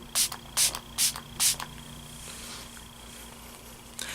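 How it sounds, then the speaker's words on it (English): Four quick hissing pumps of makeup setting spray in a steady rhythm, close by, followed by quiet room noise and a faint fifth hiss at the end. "So first I'm going to spray a couple pumps."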